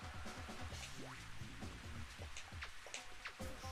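Steady rain patters across the golf course in the Mario Golf video game, a dense, continuous hiss of drops with scattered brighter splashes and no voices.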